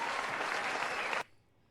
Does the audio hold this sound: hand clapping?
yes